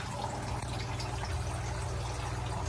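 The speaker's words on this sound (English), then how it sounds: "I also have an air pump right here with some air stones to oxygenate the water" Continuous soft bubbling and trickling of water from an air pump feeding air stones in a basement hydroponic grow setup, steady and close with no talking.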